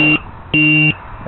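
A DJI 550 hexacopter's low battery voltage alarm sounds in loud, close, two-tone electronic beeps, repeating in quick pulses about half a second apart.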